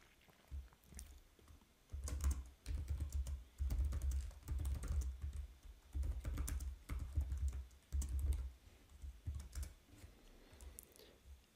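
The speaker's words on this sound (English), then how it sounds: "so I can type in something." Bursts of rapid key clicks from a computer keyboard as a comment is typed, coming in short clusters with brief pauses between them, close and fairly quiet with no talking.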